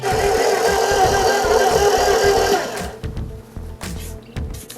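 A stand mixer whirs steadily while mixing chocolate dough, a loud close motor drone that cuts out partway through and leaves scattered clunks and faint knocks.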